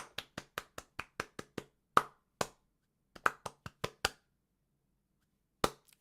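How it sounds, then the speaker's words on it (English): Small group claps for a game jam entry called Escape: a quick run of about nine sharp, evenly spaced claps, a few louder separate smacks, then a second short burst and one last late clap, all close and dry. "Can we get a massive round of applause, please, for Ffion with Escape?"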